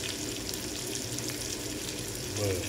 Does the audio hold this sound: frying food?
yes